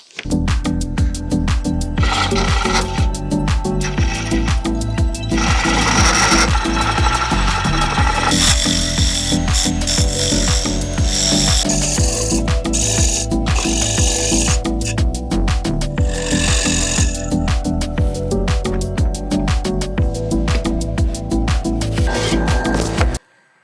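A woodturning lathe hollows out a cracked, bug-infested log, the gouge grinding and scraping loudly and continuously against the spinning wood with irregular rough bursts of cutting.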